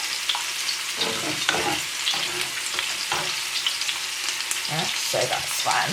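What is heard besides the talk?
tomato sauce simmering in a pan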